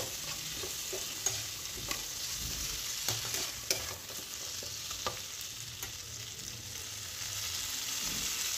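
Spice paste with chopped tomato frying in a pan for Bengali koi fish curry, a steady broadband sizzle with scattered stirring scrapes and clicks throughout, close and continuous with no talking.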